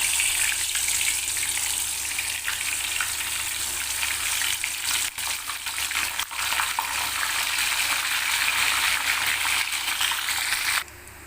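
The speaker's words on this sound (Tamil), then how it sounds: "இப்போ எண்ணெய் நல்லா காஞ்சிருச்சு இப்போ வந்து இந்த கத்திரிக்காய் வந்து போட்டுக்கலாம்" Eggplant pieces deep-fry in hot oil, making a dense, loud, continuous bubbling sizzle close by that stays even for about eleven seconds before suddenly dropping away at the very end.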